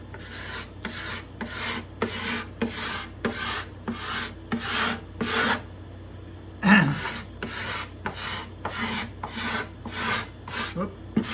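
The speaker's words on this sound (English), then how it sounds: "I'm going to try this other scraper." Hand scraper drawn repeatedly across a surface, about a dozen rhythmic rasping strokes with a brief pause and a louder scrape midway, close and dry.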